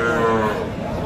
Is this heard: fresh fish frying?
no